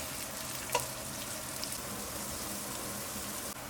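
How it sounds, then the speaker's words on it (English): Sliced onions and green chilies fry over high heat in oil, giving a steady, soft crackling sizzle with one brief louder pop, close but fairly quiet, and nobody talks. "Add the sliced onions and green chilies and fry on high heat for 2 minutes."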